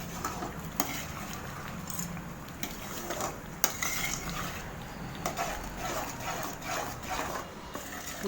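Thick traditional urad dal kali is stirred in a pot with oil, making repeated scraping and clinking spoon-against-pot sounds at an irregular rhythm over low kitchen background noise.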